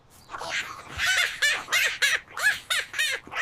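A cartoon bird squawks in a rapid series of harsh, honking, goose-like calls, about eight loud bursts in quick succession, close and alone.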